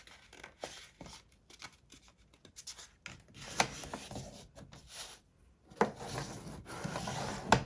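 Paper being scored and folded in half at the midpoint for a layered pocket envelope, heard as close, quiet scraping, rubbing and creasing strokes in irregular bursts, with a louder stretch of rubbing near the end.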